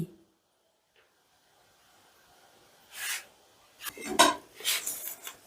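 Fried rice with spices, pepper and ghee is mixed gently in a pan, starting near silent, then scraping and clinking of a utensil against metal in bursts, close and fairly loud.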